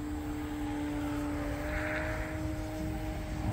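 Small E-flite Commander mPd RC airplane in flight, a steady electric motor and propeller whine with strong tonal lines that rises slightly as the throttle is pushed up, continuous and fairly close throughout.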